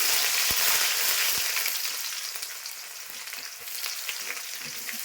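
Chopped onions fry in hot oil in a wok with a dense, steady sizzle, close and loud, broken by a few sharp clicks of stirring.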